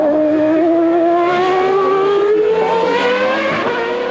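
A 1994 Formula 1 Tyrrell race car in qualifying screams past at high revs, a loud sustained engine whine rising steadily in pitch as it accelerates, with no talk.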